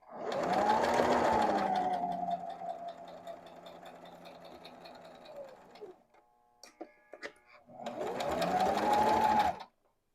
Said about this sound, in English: Let's see what happens when we backstitch.